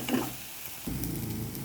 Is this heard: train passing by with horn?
no